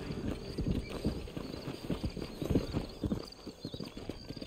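Horse hooves clip-clop steadily at close range with an occasional whinny, over a faint background hum, in the video game Red Dead Redemption.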